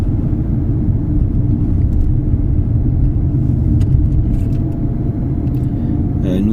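Car interior during a driving lesson after shifting up into third gear, steady low engine and road rumble at even cruising level throughout, with no speech audible.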